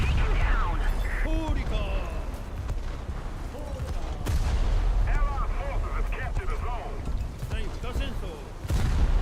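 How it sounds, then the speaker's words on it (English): Anti-aircraft guns fire at incoming aircraft in a naval battle game, a dense rolling barrage of booms and bursts that fills the whole stretch, with a voice talking over the gunfire. "but I'll just leave it to my AA gunners."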